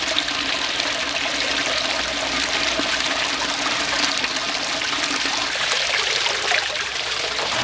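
A pond filtration pump in a backyard pond pushes water in a constant, loud rushing stream that runs on without a break and has no talk over it.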